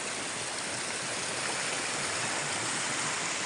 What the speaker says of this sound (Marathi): किती पाणी आहे बघा